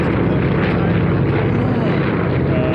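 A propeller aircraft drones loud and steady overhead during a D-Day 75th anniversary paradrop over Normandy, its engine roar continuous and close throughout, with voices talking beneath it.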